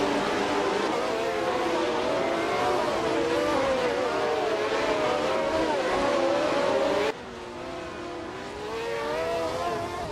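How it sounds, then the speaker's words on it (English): A 1971 RMP 160 race car engine in a racing video game drones loud and steady with shifting revs and overlapping engine tones, the level dropping abruptly near the end and then slowly building again. "Bot Platnumera is racing a 1971 RMP 160."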